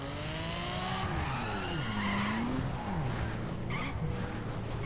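A Lamborghini Aventador's tires squeal in The Crew, a long continuous skid with gliding pitch bends over steady engine roar, loud and close throughout.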